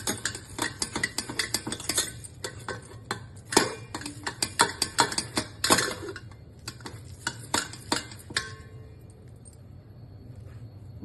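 Cooked puran filling of chana dal is pressed through a metal sieve with a copper tumbler or glass, giving repeated scraping, clinking and tapping metal strokes at close range that thin out and stop near the end.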